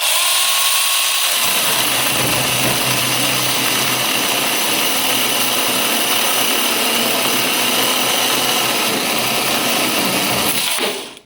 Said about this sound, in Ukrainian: 24 вольта пила з епіцентру.